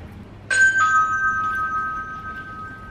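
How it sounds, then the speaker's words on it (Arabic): A doorbell chimes once with a clear sustained electronic tone that rings on and fades slowly in a quiet room; no knocking is distinct. "دق الباب، رن الجرس"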